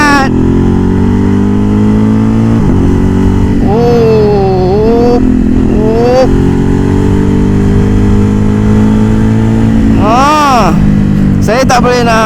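A loud, steady engine of a new X-Cape 1200 motorcycle idles close by with a few short throttle blips, the sharpest revs near the end, while someone talks over it.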